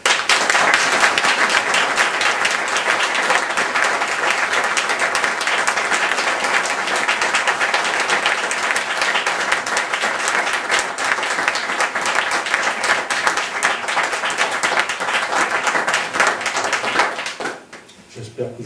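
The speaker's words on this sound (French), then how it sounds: "J'espère que j'aurai les mêmes applaudissements le 17 juin." Sustained, loud applause from a room of attendees after a press conference speech, dense and continuous for most of the stretch before tapering off sharply near the end.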